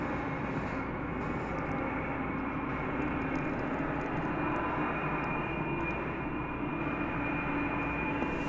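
A jet airliner departs a runway at DFW Airport at night, its engines a steady, moderately distant broadband roar that holds evenly throughout.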